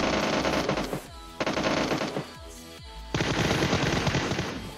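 Loud automatic gunfire in PUBG Mobile rattles out in three long rapid bursts with brief pauses between them, close and sharp, with no talking over it.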